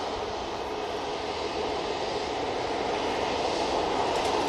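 A KLM Embraer jet taxis at Manchester Airport, its engines giving a steady, broad, fairly distant roar that holds even and slightly swells, with no voices.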